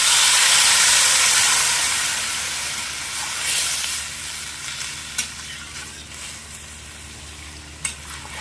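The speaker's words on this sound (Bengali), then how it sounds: "এবার দিয়ে দেবো জল।" Water poured into a hot pan of frying vegetables, including bottle gourd stems, sets off a loud, close sizzle and hiss that gradually settles into a quieter steady bubbling, with a couple of faint clinks.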